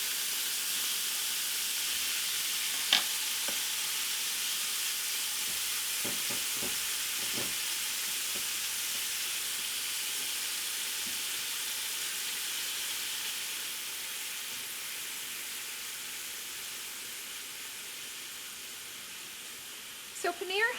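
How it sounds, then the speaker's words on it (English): Paneer sizzles in hot fat in a nonstick green pan, a steady bright frying hiss that holds throughout and slowly eases, with occasional soft clicks and stirring taps. "So paneer has some watery liquid in it, and so when you add it to the fat, it's going to actually start releasing the liquid first."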